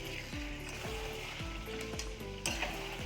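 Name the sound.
chicken frying in spice masala in a pan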